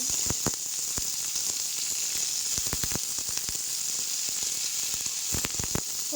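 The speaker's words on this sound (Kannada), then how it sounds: "ಸ್ವಲ್ಪ ಕಂದು ಬಣ್ಣ ಬರಬೇಕು, ಆ ರೀತಿ ಫ್ರೈ ಮಾಡ್ಕೊಳ್ಳೋಣ" Onion and tomato fry in a pan for mutton gravy, giving a steady close sizzle with occasional sharper crackles and pops.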